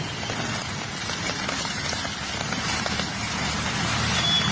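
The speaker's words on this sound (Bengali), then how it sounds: "অনেকক্ষণ হলো বৃষ্টি চালু হয়েছে, তো এখন অল্প" Light rain falls outdoors as a steady, even hiss with faint traffic rumble underneath, continuous throughout.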